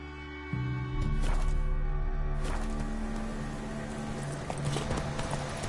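Horse hooves clip-clop in a steady trotting rhythm in the video game The Witcher 3, over sustained tonal game sounds.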